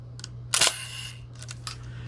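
A Kiev 88 medium format film camera fires its shutter at 1/30 second. A single loud, close mechanical clack is followed by softer winding and handling clicks, with no speech.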